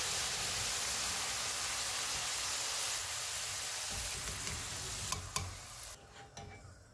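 Potatoes for spicy Lebanese garlic potatoes frying in hot oil until golden brown: a loud, steady sizzle that thins out near the end, with a few light clinks as it quiets.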